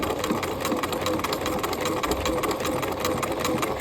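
A sewing machine back stitching at the start of a jacket seam on a half-scale jacket with canvas: a continuous close motor whir with a quick needle chatter, steady throughout, without talk.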